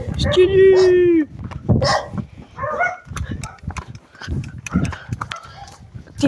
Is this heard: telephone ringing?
no